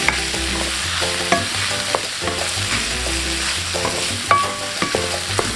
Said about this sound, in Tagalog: So saute a little bit